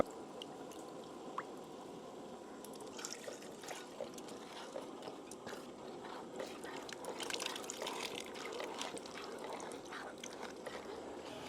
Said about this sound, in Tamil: தண்ணி ஊத்துறேன் அம்மா